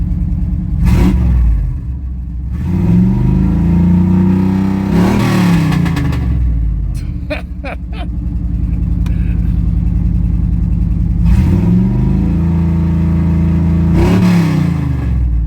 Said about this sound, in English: we're just gonna turn the truck on